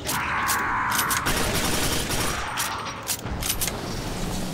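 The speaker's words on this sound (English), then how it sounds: "Man, this assault rifle is still the king." Rapid bursts from an assault rifle in Quake 4, close and loud, firing in a dense continuous stream with short pauses between volleys, layered over game background noise.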